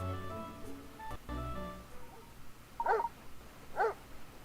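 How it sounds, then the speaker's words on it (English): A small dog's two short yaps, about a second apart, in the video game Layton's Mystery Journey, heard after soft game music and tones, fairly close and clear. "It's a dog barking, isn't it?"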